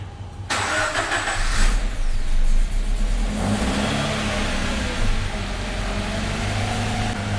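A car engine fires up after sitting unused for about a month, catching abruptly and then settling into a steady, loud idle with a brief rev early on, close by and with no talking.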